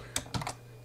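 Computer keyboard keys are struck about three times in quick succession, close and crisp against a low steady hum.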